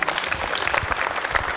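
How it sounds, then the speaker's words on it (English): An audience at a dance studio show claps steadily in a dense, continuous burst of applause, close and fairly loud throughout. "So give her a big round of applause"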